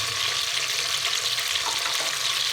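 Mash daal lentils fry in a pan toward light brown, making a dense, steady sizzle with faint stirring scrapes, close and continuous, with no voices.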